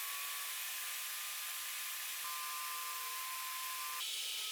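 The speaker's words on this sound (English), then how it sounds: "Now I'll cut the rest of the drawer parts using poplar plywood to reduce the weight of this table." A power tool cuts poplar plywood into drawer parts for a woodworking assembly table, giving a continuous, even hissing whine that holds steady throughout with only slight shifts in tone.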